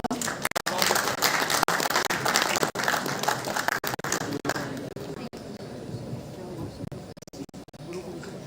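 An audience at a results declaration event claps heavily for several seconds, then the applause thins into scattered claps as voices come in underneath.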